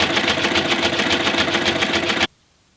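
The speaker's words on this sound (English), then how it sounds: "I'm going to go along that and reinforce it with a zigzag stitch" A sewing machine running a zigzag stitch along the folded hem of a wool blanket, a steady rapid mechanical chatter held close and loud for about two seconds before cutting off to silence.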